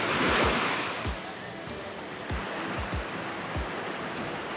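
Ocean waves crashing and rushing surf on a windy coast, a broad steady wash of water with wind buffeting the microphone in low thuds.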